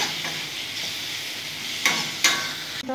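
Spices with ground black pepper are stirred and sautéed in a pan for a Bengali chochchori, a soft steady sizzle broken by two sharp scraping strokes of a spoon against the pan.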